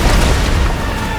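Bombs exploding in a Genshin Impact cutscene give a dense, loud, continuous low rumble of blasts lasting about a second, with no voices over it.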